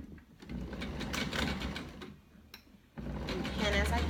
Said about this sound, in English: So I'm just going to sew up this straight edge real quick.